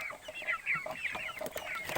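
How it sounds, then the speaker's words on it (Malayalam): Free-range country chickens cluck and murmur inside a coop, a busy overlapping flock with repeated short calls close by and a steady background of farm ambience, no talking. "ഈ കൂട്ടിൽ നാടൻ കോഴികളാണുള്ളത്."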